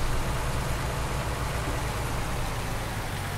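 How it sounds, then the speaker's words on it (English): Persistent rain in the farming video game Farming Simulator 19, a dense, even hiss of downpour that stays steady and loud with no talk. "this is the most persistent rain I've experienced"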